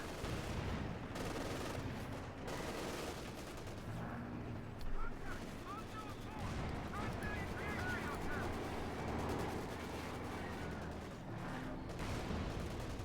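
Machine gun and artillery fire in a Company of Heroes 2 battle, with bursts of gunfire and distant booms continuing throughout beneath a commentator's steady talk.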